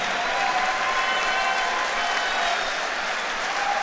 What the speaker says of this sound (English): how about a huge round of applause for our warrior from Mexico and our warrior from Uzbekistan